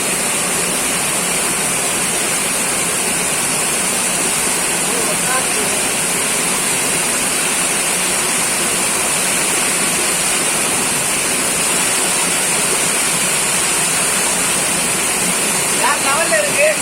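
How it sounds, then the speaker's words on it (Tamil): Mokkai Odai, the main waterfall at Gengavaram near Gingee, roars with a loud, steady, unbroken rush of falling water that fills the whole stretch close by. "மொக்கோடைக்கு மெயின் அருவிக்கு வந்தாச்சு"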